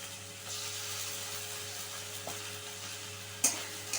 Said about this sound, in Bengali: আদা জিরে পেস্টটা দিয়ে আরও 2-3 মিনিট মতন আমাদের কষিয়ে নিতে হবে।